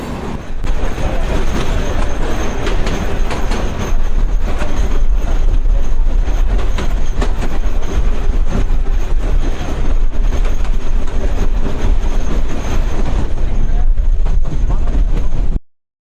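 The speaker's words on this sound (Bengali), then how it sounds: "আর আমাদের ট্রেনের নাম হচ্ছে দোলনচাপা এক্সপ্রেস, যার নাম্বার হচ্ছে 768" The Dolonchapa Express passenger train, travelling from Dinajpur toward Gaibandha in Bangladesh, rumbles along with a loud, steady roar of wheels and carriage noise that continues unbroken for about fifteen seconds before cutting off abruptly.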